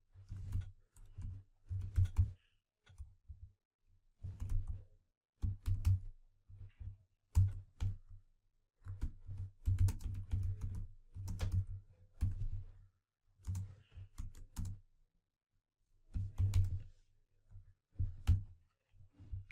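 Someone types code on a computer keyboard, with irregular bursts of close, crisp key clicks and short pauses between runs, no talking.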